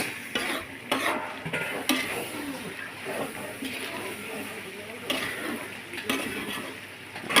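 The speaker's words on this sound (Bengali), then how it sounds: "মাংস কষাচ্ছি, মুরগির মাংস" Chicken meat being stirred and braised in a pan, with continuous sizzling and repeated scraping stir strokes close up, and a voice speaking faintly underneath.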